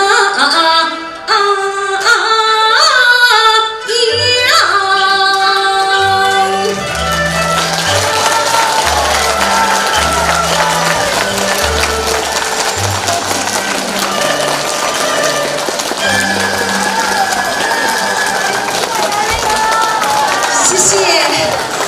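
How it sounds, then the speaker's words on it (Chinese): An audience claps and cheers at a New York Yue opera concert honouring Xu Yulan. The steady applause rises after a sung passage and continues over instrumental music with a repeating bass line. "谢谢大家的掌声，"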